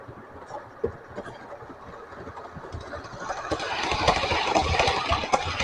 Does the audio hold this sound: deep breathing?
no